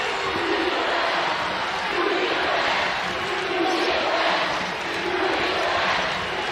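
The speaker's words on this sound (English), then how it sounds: "Crowd chanting" Crowd chanting in unison at an NCAA women's college basketball game, Notre Dame against Mississippi State, a loud dense roar of many voices rising and falling in steady rhythmic waves that fill the arena throughout.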